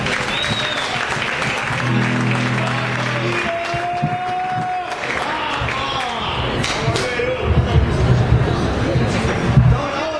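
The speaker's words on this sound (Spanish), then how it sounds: "Fuerte el aplauso y seguimos con la música, chicos." A crowd applauds and cheers amid murmuring voices at an outdoor protest camp concert in Plaza de Mayo, Buenos Aires, with a brief tone and thumping noises partway through.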